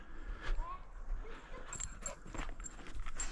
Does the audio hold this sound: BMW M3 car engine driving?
no